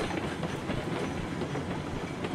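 A train in the RailRoads Online video game rolls along the rails with a dense, steady clickety-clack rumble, close and continuous without talk.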